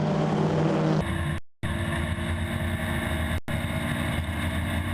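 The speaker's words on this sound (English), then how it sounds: "the cars now accelerate up from L'École for the first time" Racing cars accelerate at the Spa-Francorchamps circuit in a July 2014 race, a loud, high engine drone that builds and holds, broken by two short cuts to silence.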